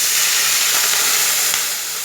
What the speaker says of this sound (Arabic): دلوقتي انا حمرت التوم، هنزل بطشه الخل اهو